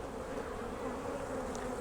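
Honeybees buzz steadily at close range during a hive inspection, a dense continuous drone with no pauses and no talking over it.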